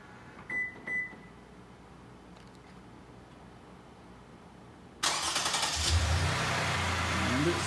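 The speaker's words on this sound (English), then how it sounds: "And it started the car." A 2010–2015 Lexus RX350 engine fires up by remote start from the key fob after two short chirps, then settles into a loud, steady idle that continues to the end.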